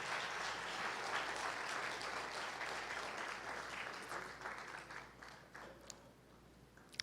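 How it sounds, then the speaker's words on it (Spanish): An audience at a Christian conference breaks into steady, dense applause, loud at first and then thinning out as the clapping tapers off over several seconds. "El aplauso me hizo ver que lo entendieron."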